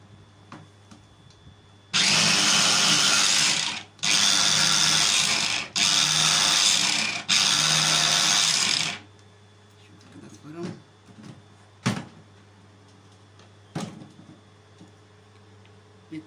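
A food processor chops peeled black dates in four loud, close bursts of whirring grinding with short pauses between, then stops, leaving quiet clicks and knocks of the machine being handled.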